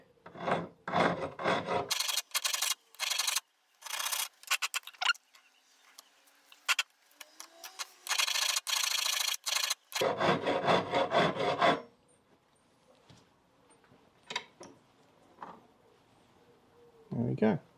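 A hand file rasps a flat onto a metal flange during an automatic shift lever repair on a VW T2, in quick repeated strokes that come in bursts separated by short pauses, close and fairly loud.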